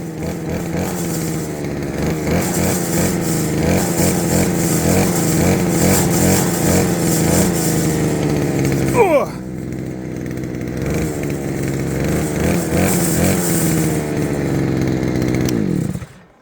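A brush cutter's small two-stroke engine runs loud and close, spinning up a 70 cm disc, briefly cutting and then whining back up to a high steady drone.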